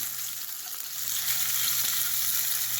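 Fish fillet sizzling steadily in a hot pan just after being flipped, a dense, even crackle that swells slightly, close and fairly loud with no talking.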